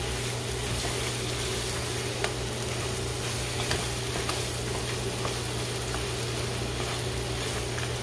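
Jamaican-style curry crab sizzling in a pot as the curry cooks out, a steady, even hiss with faint crackles running unbroken throughout, nobody speaking.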